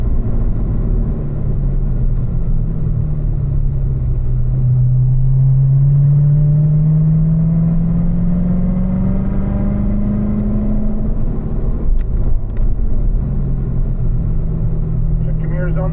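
Race cars pass along the front stretch of an oval track, a loud continuous engine drone that rises and falls in pitch as two cars come through, heard from close by with steady rumble underneath.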